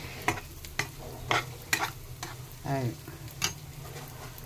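Grated coconut being stirred into cooked ridge gourd in a pan, a faint, uneven series of scraping strokes and soft taps with a low sizzle underneath.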